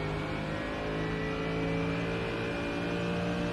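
BMW straight-six turbo race car in iRacing at Spa, a steady high engine whine layered over a droning exhaust tone, continuous and close, no talking.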